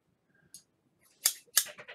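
Scissors snipping open the plastic packaging of a mint coin set, a couple of sharp close crisp cuts followed by rustling, with a faint tone and quiet handling noise before.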